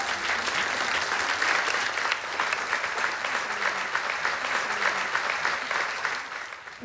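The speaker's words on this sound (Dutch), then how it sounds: "Ik vind echt dat je een applaus verdient" Sustained, dense applause from an indoor audience at a municipal ceremony for a new children's mayor, steady clapping for several seconds that tapers off at the end.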